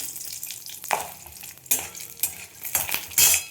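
Bori lentil dumplings fry in oil in a pan with a crackling sizzle broken by several sharp spatters and stirring clatters, close and without talk.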